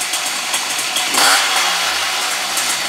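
A rebuilt Puch moped engine runs steadily close by, a buzzing, raspy two-stroke drone with a brief swell in revs partway through, heard alone without talk.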